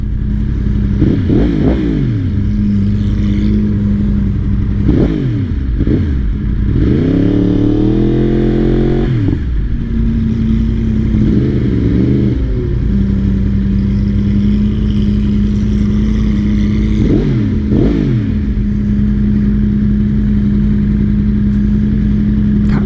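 A loud, deep-throated Lamborghini engine idles nearby on a Beverly Hills street for a long stretch, its steady rumble broken several times by short blips of the throttle.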